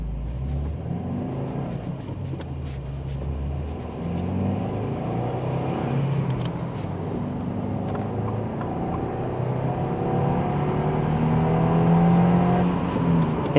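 A Subaru WRX pulls hard through corners, its engine note rising and falling across gears in a steady close rumble with rising revs and road noise throughout.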